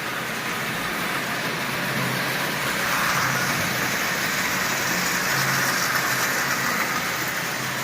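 A Marx four-wheel toy truck fitted with Lionel parts runs on a track, giving a steady, fairly loud mechanical whir and rattle that holds evenly throughout with slight swells, no voices.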